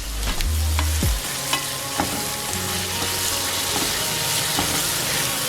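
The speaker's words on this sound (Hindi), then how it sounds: "जब तक मैं इसे मिक्स कर रही हूँ, ये कुक हो रहा है" Onions and tomato fry in a pan for a karela pyaz sabzi, sizzling loudly and continuously while a spoon stirs and scrapes with a few clinks, close and alone.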